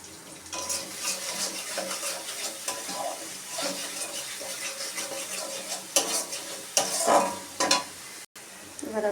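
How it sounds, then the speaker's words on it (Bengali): A spoon stirs and sautés paneer masala with chilli powder in a hot pan, giving irregular scraping strokes over a steady low sizzle of frying spices, close and fairly loud. "এবার আমি এটাকে ভালো করে কষিয়ে নেব"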